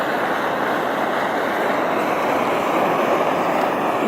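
Old Primus camping stove burning loudly during overnight snow camping, a steady roaring hiss close up and continuous, with no talk.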